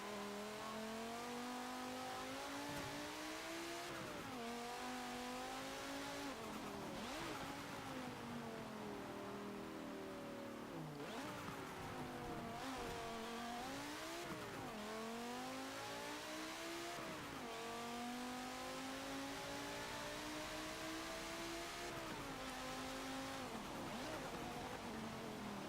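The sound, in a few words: Volvo XC90 R-Design engine racing in Forza Motorsport 7 video game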